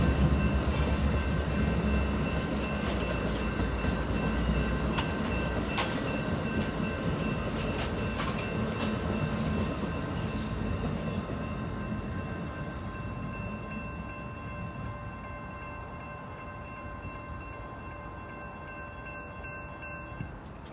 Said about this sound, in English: leading the capital corridor train 733 heading southbound on track 2 here in Oakland Jackland Square